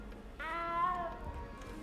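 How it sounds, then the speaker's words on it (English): A small cat in the Hogwarts Legacy video game gives a single drawn-out, clear meow of about a second and a half over a low, steady game ambience. "You don't need to be frightened, little cat."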